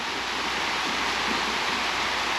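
Water pouring steadily into a potted plant's soil while watering it, a loud continuous rushing splash close by with no pauses or talk.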